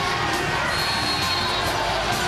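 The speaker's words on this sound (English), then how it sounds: "People all over the place going nuts and cheering for their home team." Football fans cheering in a stadium at a McMaster versus Queens Yates Cup game, a dense continuous roar of crowd noise with shouts mixed in, loud and unbroken throughout.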